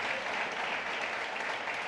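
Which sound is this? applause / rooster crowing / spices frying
applause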